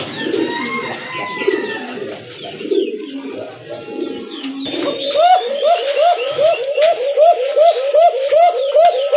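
A pair of koka pigeons coos in a steady, repeating rhythm of throaty calls, close and loud, after a stretch of people talking and other bird chatter at a pigeon market.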